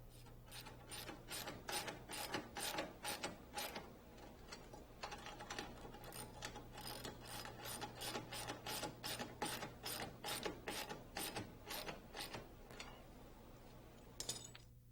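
A hand ratchet clicks in quick repeated bursts as a bolt is tightened to mount a starter relay on a fuel tank bracket of a Rotorway kit helicopter, close up with a steady low hum underneath and no talk.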